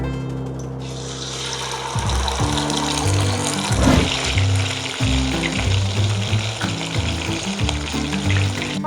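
Fish pieces frying in oil in a kadai give a steady close sizzle and bubbling that swells as more pieces go in, with background hum and no talk.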